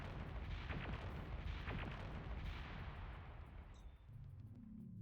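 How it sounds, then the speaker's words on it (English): Grenades explode in the video game Aliens: A Comic Book Adventure, a dense, rumbling burst of blasts that fades out gradually, followed by a quieter low tonal hum. "So we throw more grenades at her."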